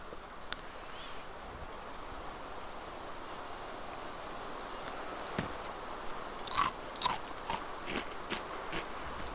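In the survival video game DayZ, a character drinks against a soft windy outdoor hiss, with a run of quick gulping and sipping clicks toward the end, faint and close.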